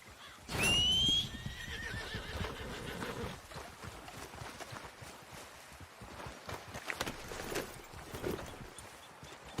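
A horse in Red Dead Redemption 2 lets out a sharp, loud whinny, followed by a soft, scattered clatter of hooves.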